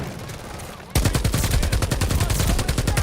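Turret gunfire in the video game Call of Duty Vanguard bursts in abruptly after a second of quieter ambience, then hammers on as a loud, continuous rapid-fire stream of heavy shots.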